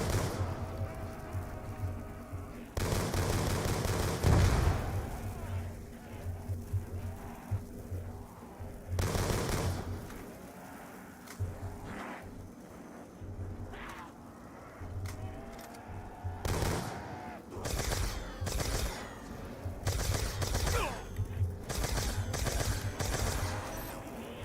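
Assault rifle fire in Black Ops Zombies: repeated bursts of shots, some long and loud, others short and sharp, scattered across the stretch alongside in-game noise and rumbling effects.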